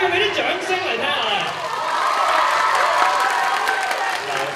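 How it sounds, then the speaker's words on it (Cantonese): An audience applauding at a cosplay cover dance performance, a short burst of clapping and crowd noise mixed with an amplified voice talking. "想嚟跳嘅，俾啲掌聲嚟聽下。"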